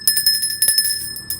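A bright notification bell sound effect, rapid repeated chiming rings in quick succession, loud and alone for about a second and a half.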